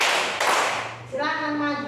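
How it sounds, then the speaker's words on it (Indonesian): Hands clapping in a classroom, a loud burst of applause from a group of students that trails off, with a voice talking over the final moments. "mari kita berikan orang tepuk tangan."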